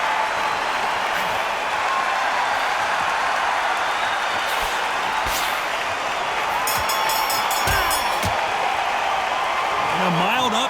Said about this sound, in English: listen to that crowd. Nobody's happy with that.